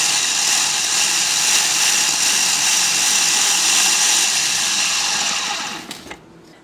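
A food processor breaks up a cheesecake crust with dark brown sugar, running as one loud, steady, close whir for about six seconds before it cuts off.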